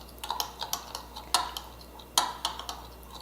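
A spoon stirs low-sodium soy sauce into a shelf-stable meat pot pie filling in a pot, giving a string of light clinks and scrapes, with a few sharper knocks against the side.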